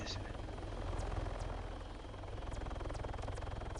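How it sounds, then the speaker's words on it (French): A helicopter flies overhead in a video game, its rotor beating in a fast, steady thump with a droning engine buzz that stays fairly close throughout. "Tu tires sur l'hélico."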